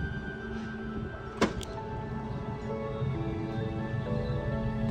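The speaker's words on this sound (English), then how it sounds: "To operate the ramp, you'll hit the sliding door button here." Power sliding door on a 2013 Toyota Sienna with a VMI fold-out side ramp runs with a steady electric motor whir and a sharp latch clunk early on, close and clear.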